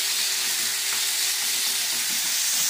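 Chicken for curry fries in a pan with a loud, steady sizzle, and the stirring adds faint scraping beneath the constant hiss.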